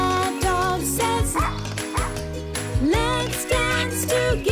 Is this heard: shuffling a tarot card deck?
no